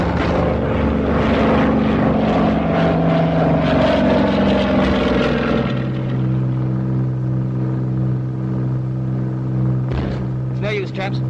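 A wartime twin-engine bomber running on one engine through a steep dive, a loud droning roar that settles into a steadier hum, with voices speaking over the engine noise.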